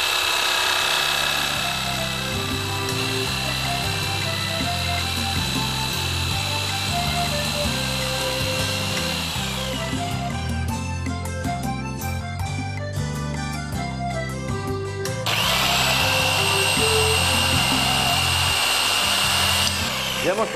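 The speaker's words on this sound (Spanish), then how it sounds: "Vamos a ir poco a poco cortando lo que va a ser el dibujo." Power tool cutting out a wooden design for a garden planter, a loud sustained whining motor with a rattling, chattering stretch of cutting in the middle before the whine returns.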